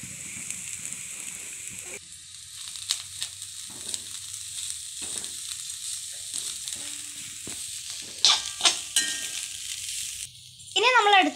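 Banana leaf mixture with grated coconut for a thoran frying and stirred in a pan, with a steady close sizzle, scraping stir strokes, and a few sharp metallic clinks near the end.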